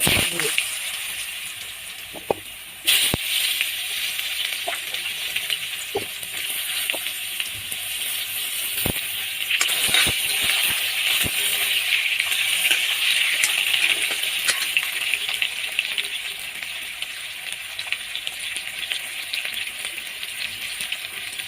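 Potatoes frying in hot oil in a home kitchen for a spicy potato dish, a steady broad hiss of sizzling with occasional sharp clicks and pops throughout, close and continuous.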